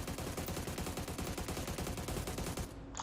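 A rapid, steady stream of AUG assault rifle fire in PUBG, loud and close, with evenly spaced shots running unbroken for about three seconds before cutting off.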